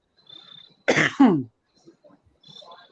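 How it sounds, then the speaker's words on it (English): A single rough cough or throat-clear bursts out close to the mic, brief and loud, with quiet background before and after. "Hold on for a sec. I gotta cough."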